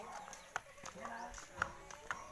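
Hooves of a white horse clip-clop along a road past a hillside in Barangay Trigos, several distinct close strikes in an uneven walking rhythm, with someone speaking throughout.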